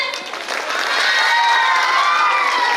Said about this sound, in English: Can you give a loud applause for them?